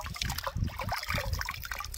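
River water flowing and trickling over stones in a Brazilian river, a steady close wash of splashing liquid filling the whole clip with no speech.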